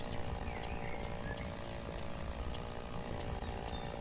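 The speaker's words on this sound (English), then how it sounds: "Never run with a chainsaw" A chainsaw cutting in the logging game Lumberjack's Dynasty, a steady, loud buzzing whine that holds close and unbroken over a few seconds with no voices.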